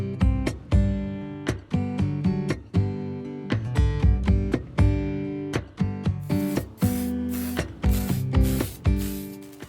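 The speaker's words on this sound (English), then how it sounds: "so that I could spray paint the spouts" Short bursts of aerosol spray paint hiss repeatedly in quick, uneven pulses, loud and close, with the can's rattle and mechanical clicks between them, as the spouts of a watering can are painted.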